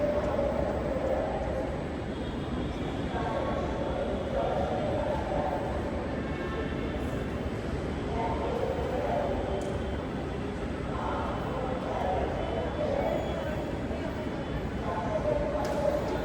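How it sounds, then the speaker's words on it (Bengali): Dhaka metro rail train approaching the station, a sustained low rumble and whirring hum with rising and falling tones, steady and fairly loud, with people talking in the background. "ট্রেন চলে আসতেছে।"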